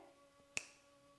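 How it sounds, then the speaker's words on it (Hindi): A single crisp finger snap rings out close and sharp against faint room hum, with nothing else around it. "चुटकी बजा के"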